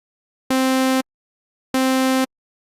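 Two short, buzzy synth notes shaped into plucks with an ADSR envelope by lowering the decay and sustain, each lasting about half a second, separated by silence and sounding alone.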